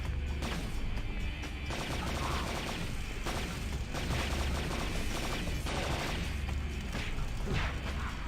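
Gunfire aimed at enemies in the video game Blade II, with continuous loud bursts of shooting mixed with mechanical clatter and impacts.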